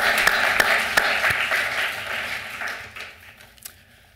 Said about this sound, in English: Let's give her a round of applause anyway,